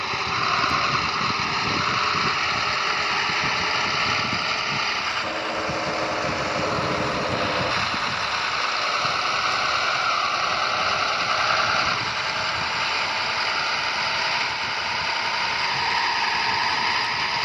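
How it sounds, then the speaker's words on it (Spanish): A truck engine idling in World Truck Driving Simulator, the truck a Constellation with its original motor, a steady high-pitched mechanical drone running unbroken and fairly loud. "Hay un motor original, chicos, motor original"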